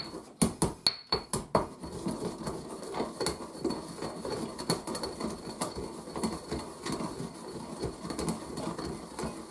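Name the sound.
grinding cumin and spices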